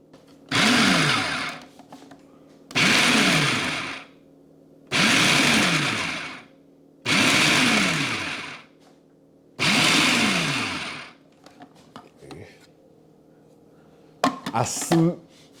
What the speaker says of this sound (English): We're gonna place the onion in the food processor as well as this garlic.